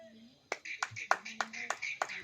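A church congregation clapping hands during a sermon, a run of about eight sharp, evenly spaced claps in a steady rhythm, fairly quiet, with faint tones lingering between them.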